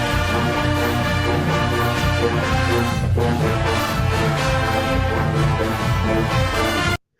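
A full marching band of brass and drums plays steadily and loudly throughout, dense sustained chords over a pulsing beat, cutting off abruptly at the end.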